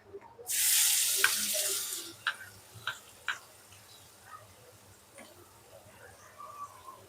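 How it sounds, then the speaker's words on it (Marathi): Chopped onions drop into hot oil already frying garam masala powder for a prawn curry, raising a loud sizzle that fades within about two seconds into faint ticks and stirring clicks. "तर आता मी याच्यामध्ये ना कांदे टाकते"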